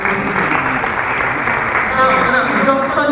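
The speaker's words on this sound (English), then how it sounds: "A round of applause to all my panelists." An audience claps for panelists at a university international week session, a steady dense applause at moderate distance with voices speaking over it.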